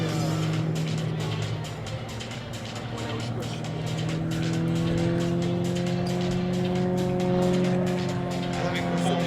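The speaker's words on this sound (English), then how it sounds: "Having performed an enormous barrel roll off to the right, the three aircraft now pull up on the 45-degree line." Three Royal Jordanian Falcons Extra 330LX aerobatic planes fly a display at RIAT, a continuous droning propeller engine roar with shifting pitch as they pull up after a barrel roll, under crowd noise and faint commentary.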